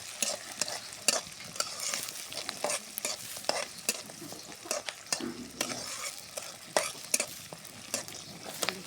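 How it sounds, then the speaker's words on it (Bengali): Onions frying in oil for a Bengali home dish, with garlic, heard as a steady close sizzle broken by repeated sharp scrapes and clicks of stirring. "দেখুন পেঁয়াজটাকে ভাজে নেব"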